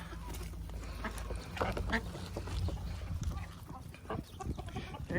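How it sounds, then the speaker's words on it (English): Farm ducks and chickens quack and cluck while feeding on lettuce, grapes and onions. The calls are close and intermittent, mixed with pecking sounds, and a person talks at times. "Especially them ducks."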